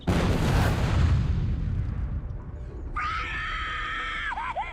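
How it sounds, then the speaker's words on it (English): A barbecue grill explodes in a Final Destination film scene, a loud roaring blast and rumbling debris followed by a shrill, wavering scream. "The grill explodes, sending debris flying in every direction."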